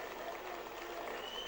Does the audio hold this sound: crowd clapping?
yes